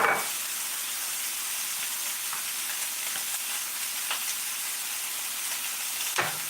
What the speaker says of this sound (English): Got my onion out. And we'll saute all that stuff.